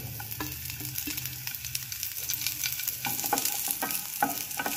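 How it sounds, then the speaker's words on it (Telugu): Curry leaves and chopped veldt grape (nalleru) pieces fry in an oil-filled pan, giving a steady hiss and sizzle with sharp crackles and stirring scrapes throughout, fairly close, with no talking. "అదే ప్యాన్లో నల్లేరు ముక్కలు వేసి బాగా వేయించుకోవాలి."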